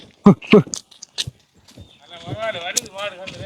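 Cattle lowing outdoors on a rural road, a drawn-out wavering moo rising above background noise, preceded by short bursts of people talking.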